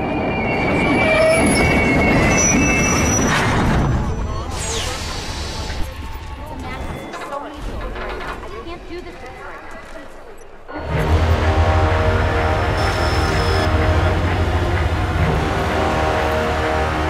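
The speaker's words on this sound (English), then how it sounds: "I got an inbound train down the platform." A train in Hitman: Absolution pulls into a station platform, rumbling and clacking with wheels squealing, loud and close, then easing before a second loud surge of rolling noise, with talk over it.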